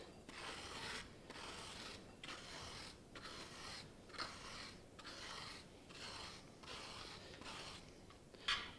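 A spoon scrapes across a tray of frozen-solid granita in a kitchen, giving steady, gritty rasping strokes repeated about once per second, close and fairly quiet, with no speech.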